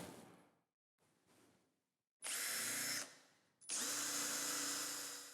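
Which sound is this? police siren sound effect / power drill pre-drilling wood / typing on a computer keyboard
power drill pre-drilling wood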